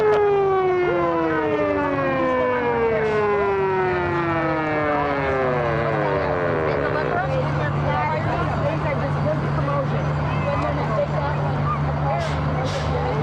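A fire engine siren sounds from a Papa John's pizza truck in a 1999 International Day parade, wailing up and down in long sweeping tones. It stays loud and close over steady crowd hubbub throughout.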